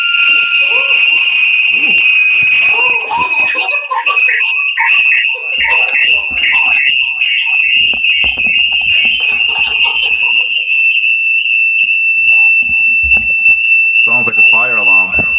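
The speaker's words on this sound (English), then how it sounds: "Sounds like a fire alarm." A fire alarm shrills with a steady, piercing high tone that holds for the whole stretch, loud and continuous, while people talk beneath it.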